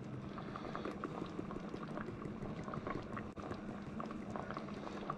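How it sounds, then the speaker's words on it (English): Apple and choko relish simmering in a pot, a steady soft bubbling and popping that carries on evenly and quietly throughout with no other sounds. "let it cook for another 10 minutes or so"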